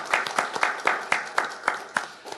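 A church congregation applauds after a healing gathering, a dense, bright burst of many hands clapping in a fairly regular rhythm that slowly thins out, heard alone in a large room.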